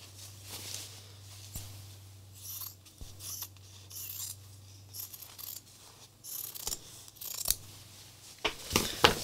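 Scissors snip a fabric shape out for a flower craft, producing a series of quiet, close clicks and crisp cuts spaced irregularly over a low steady hum, growing busier toward the end, with no voices.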